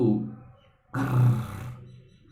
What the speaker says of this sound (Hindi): ये तो शेर की दहाड़ थी।